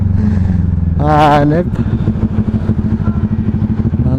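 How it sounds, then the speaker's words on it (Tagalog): CFMoto NK motorcycle engine running just after its first oil change, a close, steady idle with one sharp rev, while a person speaks briefly over it. "Grabe, ang ganda ng ano ng makina niya ngayon. Dahil bagong change oil."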